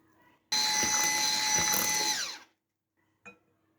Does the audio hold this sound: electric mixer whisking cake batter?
yes